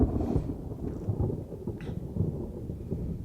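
Thunder from a dark, stormy night scene in the Mega Man X4 video game intro, a continuous low rolling rumble with rain-like crackle throughout.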